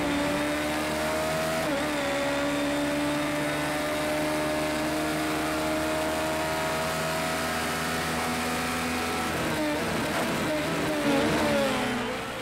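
A race car on a slow tyre-warming out lap in Project CARS 2, its engine a steady, continuous drone held at even, moderate revs with only slight pitch shifts, loud and close throughout.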